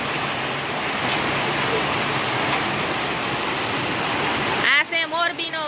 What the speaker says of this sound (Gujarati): આવ્યો વરસાદ આવ્યો